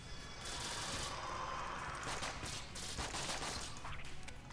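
Rapid, dense bursts of gunfire from the video game Enter the Gungeon, loud and continuous across the whole stretch, with no talking.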